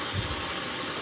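An Instant Pot pressure cooker vents steam in a steady, loud, continuous hiss while cooking pasta, heard up close for a moment with no talking.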